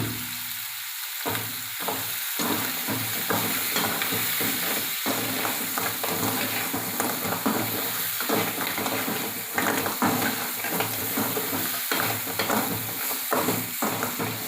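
Crab pieces sizzle and fry steadily in hot oil in a pan for a crab pepper fry, with a continuous loud crackle broken by repeated scraping and stirring as the pieces are tossed and turned.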